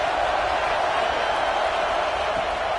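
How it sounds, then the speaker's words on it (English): A stadium crowd in a college football video game gives off a steady, dense roar of cheering that holds at an even level throughout, with no single voice standing out. "This crowd bringing the energy and noise early."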